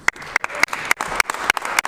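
Sparse, evenly spaced claps ring out in a legislative House chamber, a handful of sharp slaps against a quiet, reverberant room with faint voices in the background.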